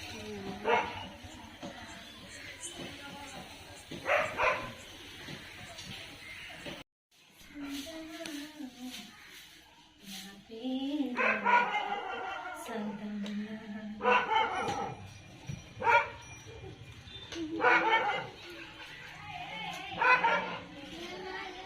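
Dogs bark in scattered bursts in a village, some sharp yips and whimpering sounds, moderately near, with quiet background noise between barks.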